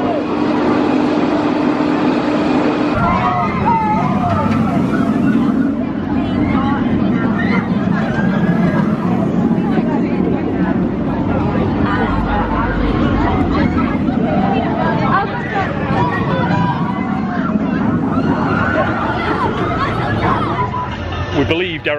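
Steady crowd babble from people waiting in a theme park ride queue at Thorpe Park, loud and continuous, with overlapping voices close by and a constant rumbling background throughout.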